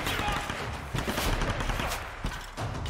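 Gunfire in a Tomb Raider action sequence: rapid, rattling bursts of shots that run continuously at moderate loudness, with scattered sharper cracks among them.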